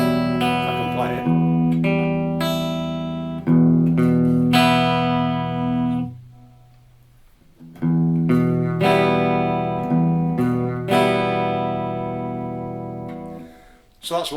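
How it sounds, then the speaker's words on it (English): Clean electric guitar through a Blackstar HT Club 40 amp with reverb, strummed chords and picked notes ringing out in two phrases with a brief pause between, tails decaying into reverb. "that's what the reverb gives us in addition to the normal sound on the amp"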